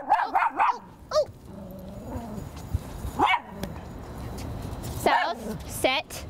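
A dog being trained to socialize with other dogs lets out several short barks and yips in bursts, with people talking and a low grumble heard between them.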